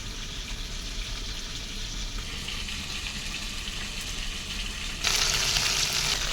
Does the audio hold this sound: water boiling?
yes